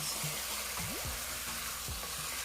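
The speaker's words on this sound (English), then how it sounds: "Now we want to fry up this a little bit." Curry chicken fries in a pan with a steady, close sizzle and hiss, broken by a few soft scraping stirs.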